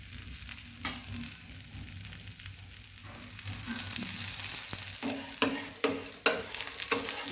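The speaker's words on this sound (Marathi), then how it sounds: "बघा असं साईडनं जरा तेल सोडूया." A dosa sizzles steadily on a hot pan as oil is drizzled around its sides, a continuous close crackling fry with occasional sharper pops and scraping clicks, no voices.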